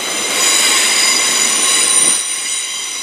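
A Class 332 Heathrow Express electric train departing London Paddington, with steady squealing wheels and a high electric whine under a continuous rail rumble that fades slightly as it pulls away, no talking.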